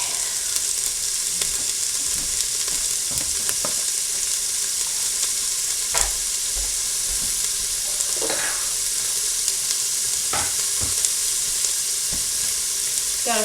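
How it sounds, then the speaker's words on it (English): Onions sauteing in a pan for a cilantro lime chicken salad, giving a steady close sizzle throughout with a few sharp utensil scrapes and stirs along the way; no one speaks. "grab our onions, dump those in, and then we're gonna saute just for a little bit"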